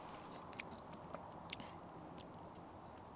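Close, quiet chewing and crunching of a fisherman's breakfast cooked over an open fire, with soft irregular bites and mouth clicks over low background hiss.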